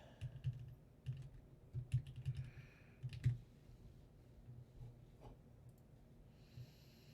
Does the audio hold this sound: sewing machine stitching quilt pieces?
no